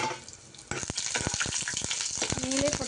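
Small pieces of coconut drop into hot ghee and fry, breaking into a louder crackling sizzle after a quieter start, with sharp spits and sputters close by and scraping of a utensil.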